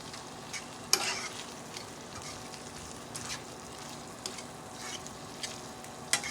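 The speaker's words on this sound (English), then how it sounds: "Mix it around really, really good" Diced tomatoes, pasta sauce and cream cheese stirred together in a pan, a low steady sizzle under slow scraping strokes with a few louder spoon knocks against the metal.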